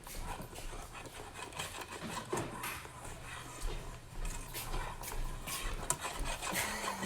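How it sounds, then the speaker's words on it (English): Thick peanut butter mixture is stirred in a pot as it cooks and pulls from the sides, giving continuous close rubbing and scraping strokes with an uneven rhythm. "My son's stirring here"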